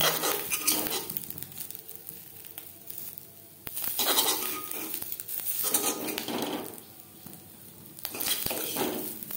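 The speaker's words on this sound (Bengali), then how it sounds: "ডিম ভাজা হয়ে গেছে, একটা পাত্রে উঠিয়ে নেব।" Fried fish roe is moved from a hot pan into a bowl with a spatula. Scraping and light metallic clinks come in several bursts over a faint, steady sizzle, without speech.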